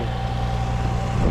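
A 2003-2007 Infiniti G35 idling steadily just after a cold start, a close, even low engine hum with no talk.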